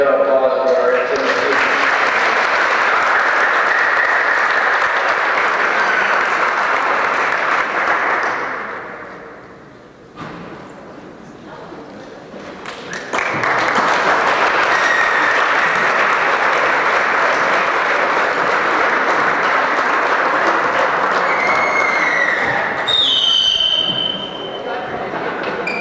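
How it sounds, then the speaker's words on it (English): Loud, sustained applause in a gym at a girls' high school basketball game, a long burst that fades out, a brief quieter gap, then another long round of clapping before trailing off. "Let's give that round of applause for our Ansonia."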